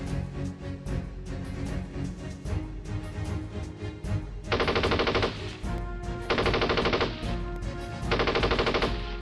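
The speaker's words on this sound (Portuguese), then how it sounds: "Visão a partir da posição dos alemães, destacando os disparos" Sustained machine gun fire with overlapping gunshots, rattling in long dense bursts that swell louder in the second half.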